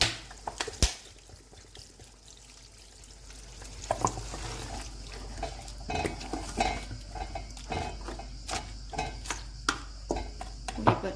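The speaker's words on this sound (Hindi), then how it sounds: "अब मैं बीफ में पानी डाल रही हूँ" Water poured into beef cooking in a pot for biryani, with a soft pouring wash broken by sharp metallic clinks of a spoon against the pot and gentle stirring.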